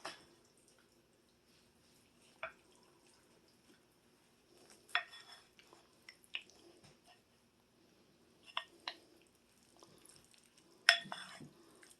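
A spoon mixes salad ingredients in a bowl, making faint, sparse clinks and soft wet squishes spread out over a quiet stretch.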